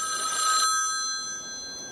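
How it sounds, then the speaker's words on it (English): A telephone bell rings in a film scene, a loud, bright ring that peaks early and then lingers as a steady electronic tone, with no voices. "When the phone starts ringing"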